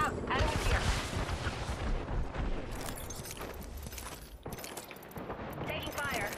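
Dense gunfire and explosions in a battle royale video game, rapid shots and heavy blasts rattling on continuously with crackling debris, while voices talk over the fighting.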